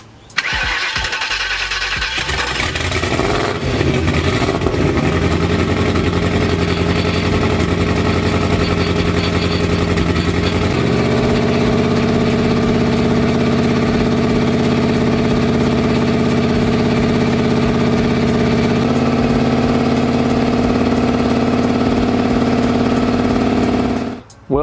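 Freshly built forged Ford 4.6L 2V V8 cranks and fires up on its first start, then settles into a steady, loud idle with a rough, uneven tone and occasional backfire pops, running continuously close by.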